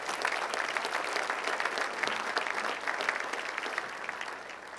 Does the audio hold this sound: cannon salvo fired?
no